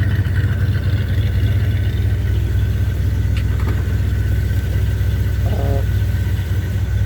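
A 1978 Chevy C10 pickup truck engine runs steadily at idle, a loud low rumble heard close up and alone, with a brief clink partway through.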